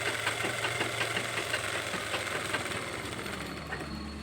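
A sewing machine stitches the lining and band of a blouse front, its rapid, rhythmic mechanical knocking running continuously at close range, easing slightly toward the end.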